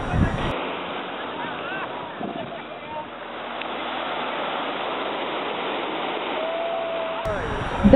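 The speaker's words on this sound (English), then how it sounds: "The breaking waves and the footprints on sand." Waves break steadily on the beach of Bamboo Island, Thailand, a continuous loud wash of surf with wind noise and no talking.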